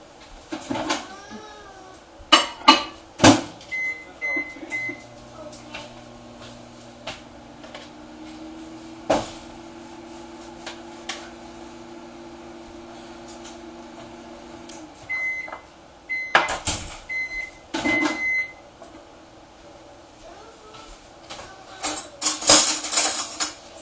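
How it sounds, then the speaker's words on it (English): A microwave oven softening hard Irish butter hums steadily for several seconds, framed by door clunks, button beeps and handling clatter at the start and end, with no one speaking. "I'm going to stick it in the microwave for about 10 seconds."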